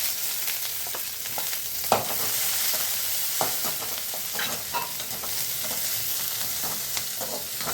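Onions frying in a pan with whole spices such as cinnamon and star anise for a pani puri kulambu, a steady broadband sizzle with scattered clicks of stirring and a spoon knocking the pan, no talk.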